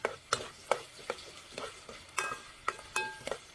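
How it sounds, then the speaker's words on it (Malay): Onions and red chili with black pepper are stirred in a pan, the utensil striking and scraping in a steady rhythm of about eight distinct knocks over a soft background sizzle, close up with no talking. "Bismillah, kita kacau. Gaulkan pepper mesra seperti biasanya."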